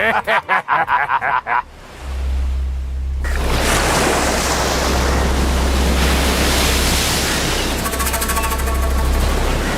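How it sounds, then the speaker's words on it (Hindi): Rough, angry sea at open water, with a broad roar of crashing waves and gusting wind that builds after a few sharp thuds and holds steady and loud. "समंदर बड़े गुस्से में है।"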